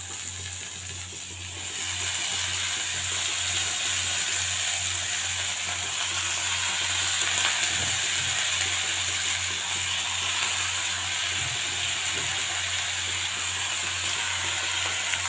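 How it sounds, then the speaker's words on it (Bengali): Cabbage poured into a pan over peas and potatoes frying in oil sets off a loud, steady broadband sizzle that rises after a quieter opening and holds evenly, with a faint low hum beneath. "এবার যেটা করবো, পুরো বাঁধাকপিটা ঢেলে দেবো।"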